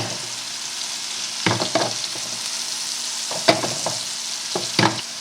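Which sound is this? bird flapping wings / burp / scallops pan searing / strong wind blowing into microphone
scallops pan searing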